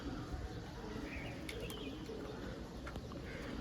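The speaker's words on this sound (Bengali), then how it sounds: "সবুজ জোড়া দুটি বাচ্চা পায়রা আছে আপনারা দেখতে পারেন" Two young green-pair pigeon chicks coo softly against a dense, steady background murmur, with a few quick flaps of wings breaking through in brief bursts.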